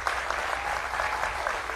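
A studio audience at a 2024 primary congressional candidate forum applauds, a dense even wash of clapping that holds steady and moderately loud throughout.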